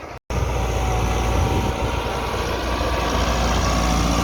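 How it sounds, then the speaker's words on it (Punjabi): Massey Ferguson 385 tractor pulling an 11-tine plough while sowing wheat, its diesel engine a loud, steady close drone that runs unbroken after a brief cut at the start. "ਅਦੀਲ ਅਫਜ਼ਲ ਜਨਾਬ 385 ਨੂੰ ਚਲਾਉਂਦਾ ਪਿਆ"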